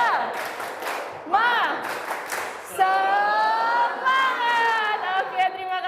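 Group of participants at a leadership session performing a rhythmic spirit clap, tepuk semangat: bursts of patterned clapping with cheering voices, followed by lively chatter and shouting from the crowd, close and loud.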